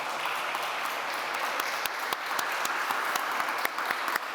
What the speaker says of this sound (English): Please also a warm applause for our panelists.